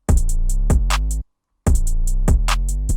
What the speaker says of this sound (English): Another trick that you can use in your 808s are slides.